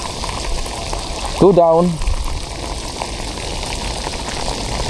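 Heavy rain pouring steadily during fishing in flooded conditions, a dense close hiss of drops drumming on water and surfaces throughout, with someone briefly speaking over it.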